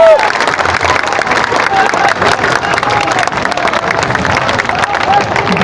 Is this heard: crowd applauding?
yes